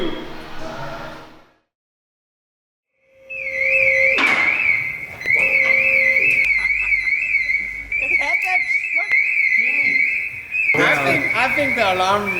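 Car alarm on a BMW E46 with a broken key, a steady warbling electronic siren cutting in after a brief silence and sounding continuously at moderate distance, with people talking and shuffling noises around it.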